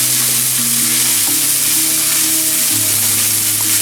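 Poha upma stirred in a hot pan, a steady loud sizzle with a spoon scraping through the flattened rice, continuous and close with no talking.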